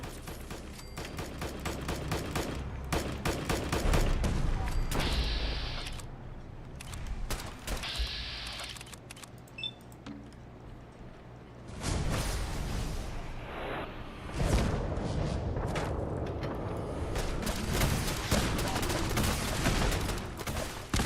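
Dense gunfire during a battle against gulpers in Fallout 4, rapid volleys of close, loud shots and bursts that come in waves with short lulls between them, mixed with whooshes and mechanical clatter.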